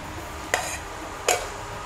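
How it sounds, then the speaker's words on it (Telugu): Seeds such as cashew and muskmelon seeds stirred into hot oil in a kadai for chicken pakora, two brief scraping clinks of a spoon against the pan over a soft continuous frying hiss. "విత్తనాలు కలుపుతున్నాను చూడండి"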